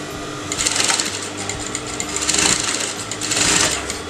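A sewing machine runs close and loud while stitching a canvas neckline, a steady mechanical chatter that swells in three bursts of faster stitching.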